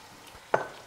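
Water poured into a pan of banta kofta curry, a sudden sharp sizzle and hiss bursting out after a quiet moment, then quickly fading.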